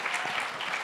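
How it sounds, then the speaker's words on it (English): A brief burst of audience clapping at an animation festival panel, dense and steady for under a second. "Round of applause for Demente in Guadalajara."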